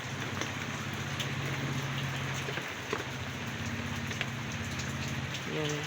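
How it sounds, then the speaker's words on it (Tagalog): Heavy rain pours down steadily at a school, a dense hiss of drops drumming on surfaces close by, with a low hum underneath. "lumakas yung ulan kaya silong muna tayo"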